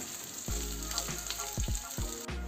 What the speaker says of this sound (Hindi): कुछ सेकेंड अदरक लहसुन को भूनने के बाद इसमें हम 1 छोटी प्याज काट के डाल देंगे।